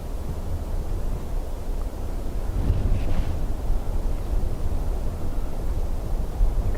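Strong wind buffets the microphone at Dublin Airport as a constant loud, rushing roar, swelling briefly midway, with no voices.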